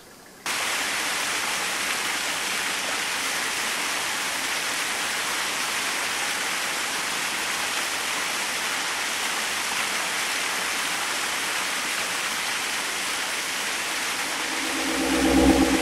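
A large underground river, about 15 metres high and 6 metres wide, rushes through a cave in the Totes Gebirge, making a loud, constant roar of water that starts abruptly and continues steadily, with a low rumble swelling at the end.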